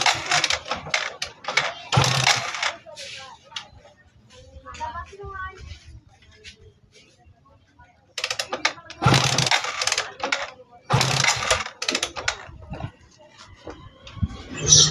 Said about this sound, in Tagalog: So try muna natin paandarin,